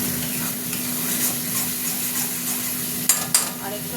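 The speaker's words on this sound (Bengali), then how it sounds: "এই কষছি মশলা, লেগে যাচ্ছে" Steady oily sizzle of spices being fried and stirred in a pan for a fish curry, close and constant, with a couple of sharp scrapes near the end.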